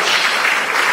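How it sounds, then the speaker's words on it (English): Audience applause at a TEDx Warri event, a dense, steady wash of clapping from a crowd as a speaker takes the stage, loud and continuous for under a second. "Please give her a big round of applause as she takes the stage."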